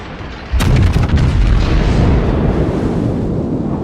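Heavy warship gunfire in the World of Warships naval game, a loud sudden boom followed by a long rumbling roll of blasts and explosions that fills the rest of the moment, with no voices.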